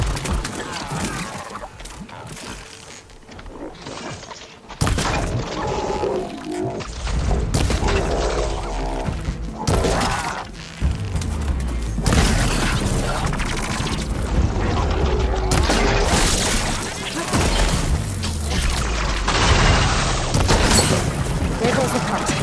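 An explosion in the Horizon Forbidden West video game, heard as a loud, continuous stretch of booming blasts, crashes and rumbling game sound with heavy low end and sudden bursts.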